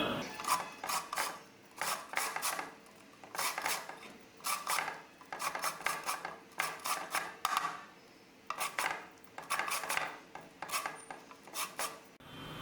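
The ridged outer skin of a bitter melon is rasped on a grater in short rhythmic bursts of two to four scraping strokes, close and clear, separated by brief pauses.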